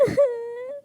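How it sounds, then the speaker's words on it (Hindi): A little cartoon girl cries in a single long, wavering wail that rises briefly and then holds a drawn-out moaning tone before cutting off, close and clear. "छोटी मासूम गुड़िया की रोने की आवाज दूर तक जा रही थी"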